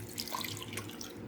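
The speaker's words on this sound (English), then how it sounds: "Next, we will add 3 cups of milk." Milk is poured into a bowl for homemade ranch dressing, making a steady, close liquid splashing and gurgling stream that runs briefly with no talking.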